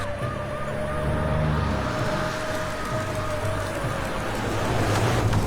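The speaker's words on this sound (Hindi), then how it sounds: "चारों तरफ सायरन की आवाज गूंज रही है।" A steady wailing police siren sounds over a rumbling background of traffic, moderately loud and holding its tone for several seconds.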